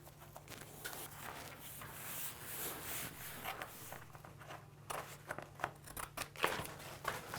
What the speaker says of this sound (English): Scissors work pretty good.